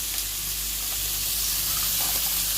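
Chopped garlic cloves sizzle steadily in a hot oiled pan while garlic chicken is being cooked at home. The hiss is even, continuous and fairly close, with no talking.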